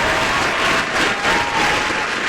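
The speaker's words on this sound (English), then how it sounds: "Big round of applause for Jackson Heights own Mr. Randy Watson." A studio audience welcomes a guest to the stage on a morning radio show with loud, sustained applause, a thick even roar of clapping hands that carries steadily for over two seconds without speech.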